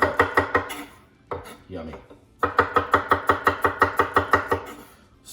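A knife chops shallot and garlic into thin slices on a cutting board, rapid rhythmic taps in two bursts separated by a short pause, with a brief spoken word in between.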